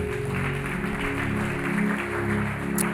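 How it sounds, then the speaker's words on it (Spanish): Church congregation applauding during an evening Spanish-language worship service, a steady even wash of clapping under a low sustained organ or keyboard drone. "Dale un fuerte aplauso al Señor."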